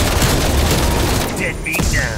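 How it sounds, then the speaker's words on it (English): Explosion and gunfire from a C4 charge in Call of Duty Black Ops Cold War Outbreak mode, a dense loud burst of shots and blast noise with a player talking over it. "C4 prime. Throw it. C4 charge."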